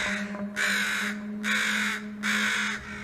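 Three loud, harsh bird caws, evenly spaced and close by, each lasting about half a second over a low steady hum.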